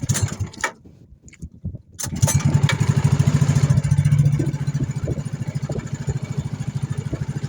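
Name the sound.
small boat engine restarted after stalling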